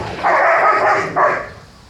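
A dog barks twice, loud and close, with a longer first bark followed by a shorter second one.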